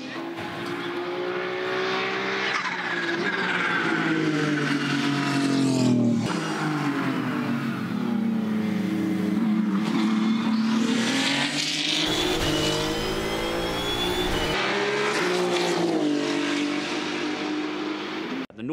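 A Holden V6 twin-turbo Supercar engine racing at Bathurst: a loud, continuous roar whose revs rise and fall throughout, with no talking.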